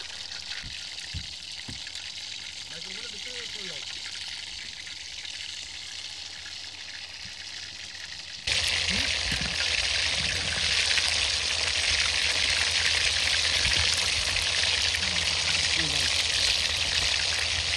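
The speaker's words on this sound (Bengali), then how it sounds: "ম্যারিনেট করা লট্টে মাছ এবারে হচ্ছে এভাবে ময়দার ভিতরে চুবিয়ে চুবিয়ে তারপরে আমরা গরম তেলের ভিতরে ঢেলে দেব" Flour-dipped marinated loitta fish dropped into hot oil, giving a steady sizzle that jumps to a louder, denser crackling fry halfway through, with faint background activity.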